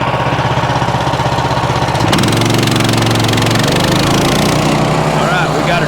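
A MechMaxx GC75 wood chipper engine runs steadily at close range, a loud continuous mechanical drone with a pitch shift about two seconds in as it settles, while a person talks nearby.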